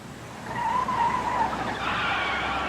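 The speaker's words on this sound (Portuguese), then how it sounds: "Chefe está derrapando." Car tires skidding with a sustained high squeal in a Brazilian radio traffic-safety ad, rising and sliding for about a second before a broader rushing screech, loud and alone with no talk.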